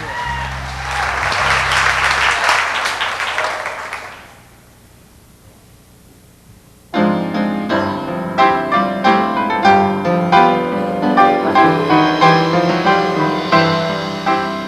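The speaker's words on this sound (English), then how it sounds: "let's give them a round of applause" Audience applause at a 1998 village jamboree: a loud, steady burst of clapping for about four seconds, then a brief lull before gospel music with piano and voices begins.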